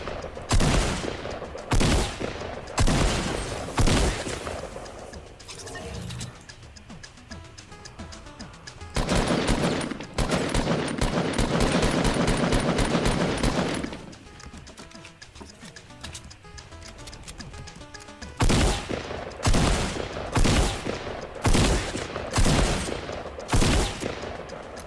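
Fortnite mini-game gunfire: repeated bursts of shots in quick clusters, with a longer sustained stretch of firing in the middle. Quieter gaps with game sounds fall between bursts, and no speech is heard.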